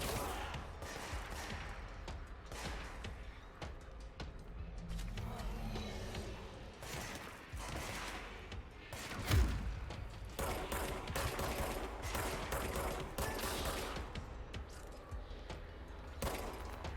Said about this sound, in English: Ah, who's shooting? Who's shooting? Ah, you are shooting. You will not shoot me.